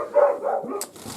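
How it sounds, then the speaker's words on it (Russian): Dogs bark a few times close by, short sharp yelps followed by a higher whining note. "Собаки у меня лают."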